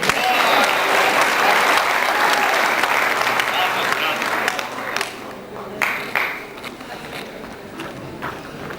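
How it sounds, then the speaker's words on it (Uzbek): A crowd at a gathering claps loudly and steadily, then the applause fades into scattered claps and murmurs of talk. "Ana qarsak."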